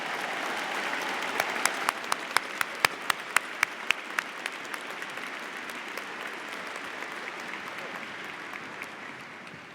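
Audience applause at a university psychology commencement ceremony, a steady roomful of clapping that stays even for the whole stretch, with a few nearby sharp claps standing out early before tapering slightly toward the end.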